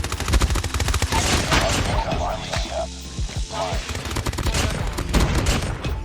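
Rapid automatic fire from the CBR4 submachine gun in the mobile shooter COD Mobile, loud close bursts running almost continuously through the whole stretch with brief gaps between volleys.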